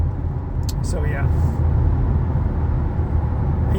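A 2025 Hyundai Elantra N drives along after octane learning, its engine and road noise forming a steady low rumble beneath a person talking, with a few brief higher clicks early on.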